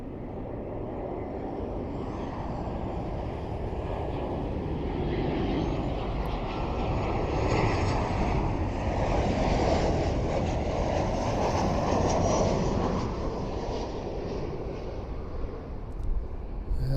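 A WestJet airliner lands at Toronto airport, a broad, steady roar of jet engines and rushing air that swells gently and holds for the whole stretch, heard from outdoors at a distance without talk.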